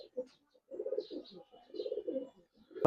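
Soft, low coos from a breeding pair of Giribaz pigeons in two short rounding bursts, close by, with a faint chirp between and a brief thump at the end.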